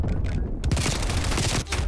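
Rapid automatic gunfire in Call of Duty: Black Ops Cold War on the Miami Strike map, a dense close burst of shots running almost nonstop with a brief pause near the end.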